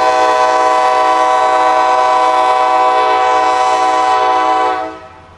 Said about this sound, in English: This is M442, overnight freight service out of Tampa that runs via Wildwood, Baldwin, Callahan, Folkestone, and into Waycross.